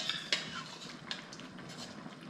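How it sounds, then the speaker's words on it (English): Cooked beans scooped from a pot with a slotted spoon, soft scraping and light metallic clinks over a faint steady hiss, fairly quiet and close. "So, we'll just scoop these in here with a slotted spoon"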